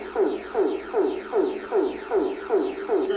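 Barbados emergency alert system sound, a repeating electronic pattern like club music: seven or so rhythmic pulsing bursts with sweeping tones at a steady beat, moderately loud and without speech.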